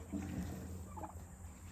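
Turkeys about four months old gobble in a short burst against a steady low background hum, with a few bird calls standing out over the din.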